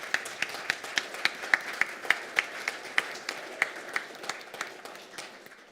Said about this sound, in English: Let's give you a round of applause for your role.